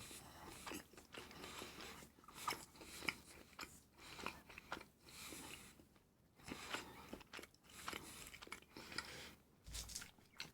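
Someone munches a slice of toast, with a stream of irregular crunchy bites and chewing close to the mic, partly overlapping faint talk and game noise.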